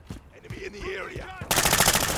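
Machine gun fire in Call of Duty Modern Warfare 3 bursts in as a loud, dense rattle over the last stretch, after a stretch of game noise with some voice underneath.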